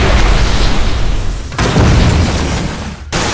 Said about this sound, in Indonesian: Saat itulah Shioma menjalankan rencananya dengan meledakkan tempat itu.